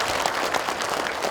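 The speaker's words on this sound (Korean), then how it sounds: "좋은 말씀을 해주신 또 교육감님께 다시 한번 큰 박수 부탁드립니다." A short burst of audience applause at a county town-hall meeting in an arts hall, moderate and even clapping with no voices over it.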